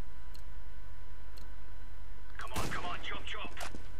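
A single sharp AUG rifle shot rings out in Counter-Strike: Global Offensive on the Nuke map during a competitive match. The crack has a short ringing tail over a steady low background hum.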